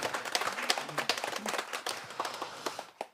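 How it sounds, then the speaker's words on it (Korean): Clapping from a seated audience at a choir forum, a dense scatter of hand claps running steadily for about three seconds at moderate loudness and trailing off at the end. "응원의 박수 좀 부탁드립니다"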